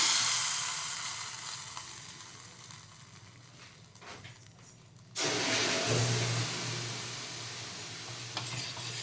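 Hot tempering of mustard seeds, curry leaves and turmeric is poured into kadhi, giving a sudden loud sizzling burst about halfway through that follows a quieter background hiss and then settles into steady close frying.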